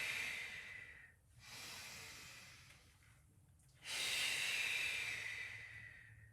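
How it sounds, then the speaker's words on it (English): Long, hissing breaths out during a Pilates exercise come close and steady, in two extended exhalations separated by a brief pause, with no talking over them. "breathing out."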